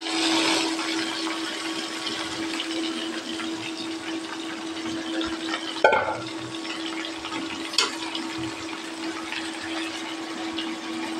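Chopped, washed pui greens fry in a pan with a steady, even hiss under a constant hum, with one or two brief clinks of stirring.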